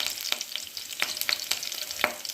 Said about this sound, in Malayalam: ഉണക്കമുളകും ഇട്ട് കൊടുക്കാം.